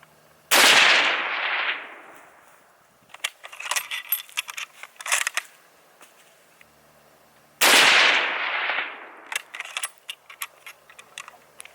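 Two loud 8mm Mauser rifle shots fired outdoors at a block wall 300 yards away, each a sharp blast with a rolling echo, followed by clicks and metallic rattles of working the bolt and handling gear.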